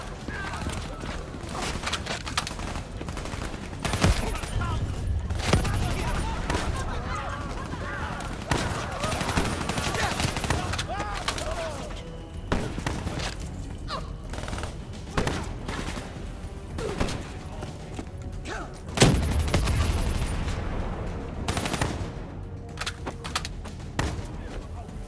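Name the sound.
gunfire from enemy gunner in video game Call of Duty Black Ops 3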